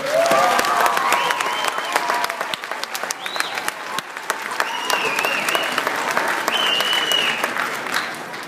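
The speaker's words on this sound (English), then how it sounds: "Let's give all of our loved ones a round of applause" A graduation ceremony crowd applauds for their loved ones, a dense, steady roar of clapping that fills the hall without pause, with scattered cheers rising here and there.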